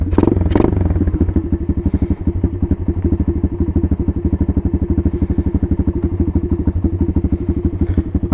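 An Apollo 125 RFZ Chinese dirt bike engine idles while warming up on choke, a close, steady rapid single-cylinder thumping with a few clattery knocks at the start.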